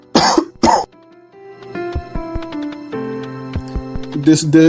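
Two harsh coughs up front, then a soft, steady ticking pattern with ringing tones, closing on another cough.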